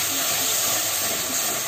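Ground tomatoes hit hot oil in a pan with onions for sev tamatar sabji, a loud, dense, continuous sizzle and hiss that holds steady throughout, close up with no speech.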